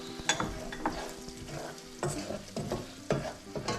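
Turmeric and chili flakes fry in a pan, a close crackling sizzle broken by repeated scraping and tapping strokes of a stirring utensil.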